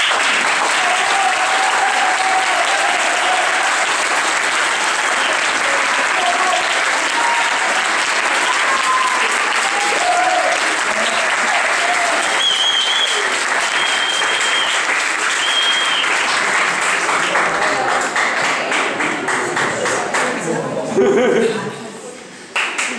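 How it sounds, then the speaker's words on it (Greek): Audience applause fills the hall after a school theatre play for the 28 October holiday, steady and loud for about twenty seconds, with some cheering and laughter mixed in before it dies away near the end. "Χειροκρότημα, λαέ."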